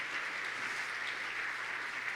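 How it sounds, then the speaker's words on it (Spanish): Audience in a church talk applauding, a steady, even wash of many hands clapping from a moderate distance, with no break or voices over it. "Dale un aplauso, Señor."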